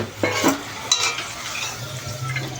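Homemade puchka shells frying in oil that has become too hot, a soft sizzle under scraping stirs and light clinks of a utensil against the pan, with a few sharper knocks.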